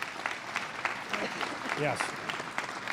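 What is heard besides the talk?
audience applause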